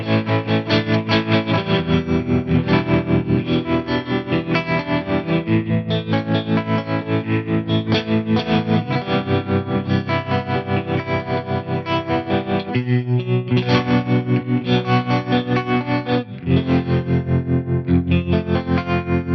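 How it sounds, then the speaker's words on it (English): Clean electric guitar on the neck and middle pickup combination, played through a VP4 bias tremolo at stock settings, with steady rhythmic chording and a pulsing volume swell running through the whole passage, loud and close with no talking. "Let's hear the bias trem at the stock settings."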